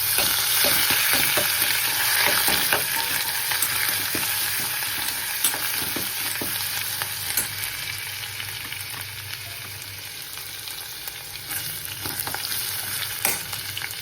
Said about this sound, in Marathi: आता मी थोडं हिंग घातलं याच्यामध्ये आणि लसणाची पेस्ट, आलं लसणाची पेस्ट घातली. छान हलवते.